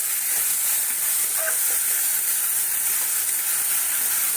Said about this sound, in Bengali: হলুদ আর লঙ্কার যে জলটা এটা দিয়ে দিলাম।